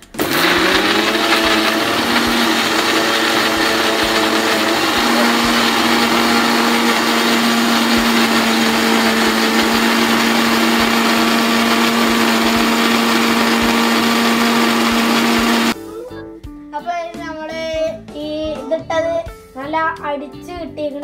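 A mixer grinder whirs loudly and continuously for about fifteen seconds as it blends mango with sugar in a mixie jar, then cuts off abruptly, after which a person speaks nearby.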